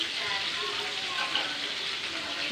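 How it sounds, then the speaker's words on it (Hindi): Pomfret fish frying in oil on a tawa, a steady moderate sizzle and crackle heard close up, with a faint voice briefly in the background. "फ़िश फ्राई करने रख देंगे ऐसे ही मैं एक और फिश फ्राई करने रख देती हूँ"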